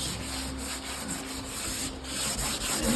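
A Scotch-Brite pad scrubs with a pine sol and soap mixture along the grain, making a quiet, continuous close rubbing with slight rhythmic swishes.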